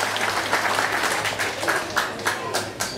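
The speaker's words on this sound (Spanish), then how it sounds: "yo quiero a estos dos grandes amigos ofrecerles un buen y caluroso aplauso" Audience applause at a political rally in Oporapa, a steady wash of many hands clapping, fairly close and continuous throughout, with no talk over it.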